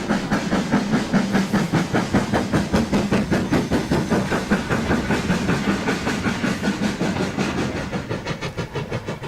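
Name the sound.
LMS Black 5 steam locomotive exhaust bark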